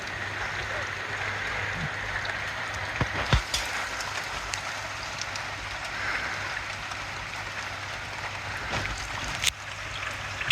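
Steady rain patters on a surface near a parked Audi A6 during an oil and filter change, a continuous broadband hiss with a few sharper drips, while a person calls out briefly in the background.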